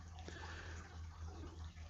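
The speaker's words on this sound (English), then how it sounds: "Just got to water it in now." Water poured over a freshly repotted bonsai to settle it in, a quiet steady trickling and soaking wash over a low background hum, continuous and faint.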